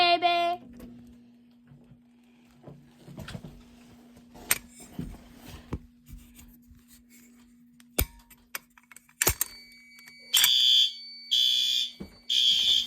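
A new fire alarm control board under test sounds its alarm in loud, repeated electronic tone bursts near the end, after a stretch of clicks, ticks and a steady low hum from the equipment.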